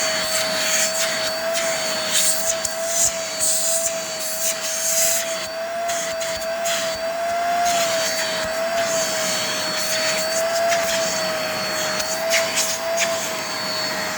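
A Hoover Spotless carpet spot cleaner runs loud and steady, its motor whining at a constant pitch with bursts of suction hiss over the top.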